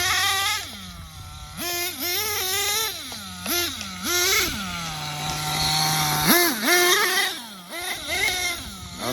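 XTM Mammoth nitro RC monster truck engine revving hard, pitch climbing and dropping in repeated bursts, then rising sharply as it shifts into second speed; loud, close and continuous with no talk.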